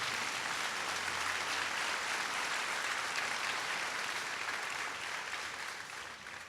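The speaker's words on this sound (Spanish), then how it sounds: "Dale un aplauso al Señor" Congregation at a Spanish-language church service applauding, a steady wash of many hands clapping that holds at full strength for about six seconds before starting to fade.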